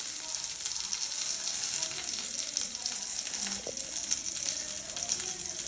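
Carrot stir-fry with curry leaves sizzles steadily in a pan, a continuous bright frying hiss throughout with a faint stir or clink midway.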